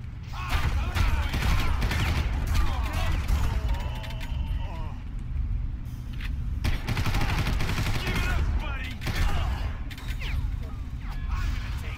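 Gunfire from enemies in the shooter game Far Cry crackles in dense bursts and mechanical clatter through a continuous loud battle din, with a player talking over it.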